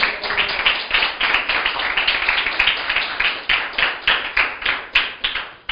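Congregation claps for the Lord during a church sermon, a lively round of hands clapping in bursts that rise and fall with a loosely rhythmic pulse, close and fairly loud, with no talk.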